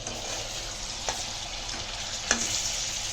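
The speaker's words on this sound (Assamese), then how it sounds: "এয়া হৈছে ৰৌ মাছ, আৰু এতিয়া মাছ ভাজিছে আমাৰ তেখেতে।" Rohu fish frying in oil, giving a steady, moderately quiet sizzle with a couple of faint clicks from the pan and no talking.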